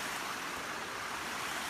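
The Platte River streams over a beaver dam at Ransom Lake, a soft, steady rushing wash of flowing water heard faintly and unbroken, with no voices.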